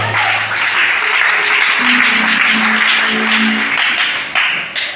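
A congregation at a church service applauds for Shada with sustained, fairly loud clapping from many hands, while soft tonal music sounds underneath and the applause tapers slightly at the end.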